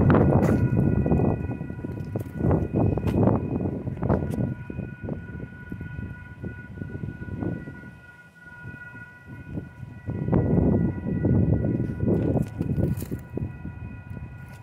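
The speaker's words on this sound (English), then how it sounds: "We have a southbound UP coming my way." A southbound Union Pacific intermodal freight train rumbles past while its horn blares in long, sustained blasts that ease off briefly midway, then swell again loud and close over the heavy rolling noise.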